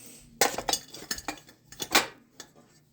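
Orange cinnamon pull-apart bread is turned out of a pan onto a plate in a home kitchen, with a series of sharp metallic clanks and knocks of the pan and dish, close and fairly quiet, with no talking.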